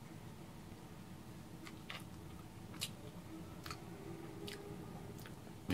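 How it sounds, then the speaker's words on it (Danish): Someone chews a first bite of bacon ice cream, giving soft, close mouth sounds with a few sharper crunchy clicks spread across several seconds, no talking. "Nu tager jeg den første bid."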